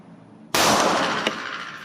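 A single loud handgun shot fired at a large bottle about five to six meters away on an outdoor range, a sharp crack followed by a ringing decay and a faint secondary impact.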